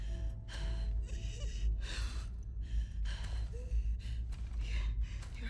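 A character in The Last of Us Part II gasps and breathes heavily in spore-filled air, a run of ragged, breathy inhalations and exhalations over a low steady drone.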